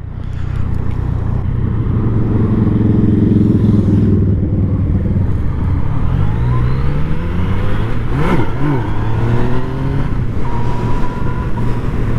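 A 2017 Yamaha FZ-09/MT-09 motorcycle being ridden hard, engine revving up through the gears with rising pitch, wind rush and quick shifts, loud and close with no speech.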